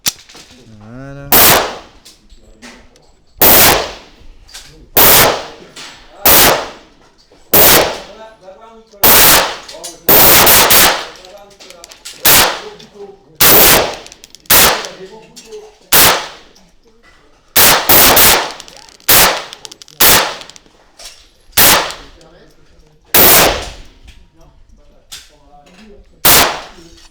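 Pistol shots at a gun shop range, ten rounds fired one at a time in a slow uneven rhythm, each a sharp loud crack with a short ringing tail, between quiet gaps.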